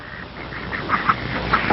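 Farm birds on a kibbutz, with duck-like quacks and calls rising out of a steady background hum, moderately near and fairly faint.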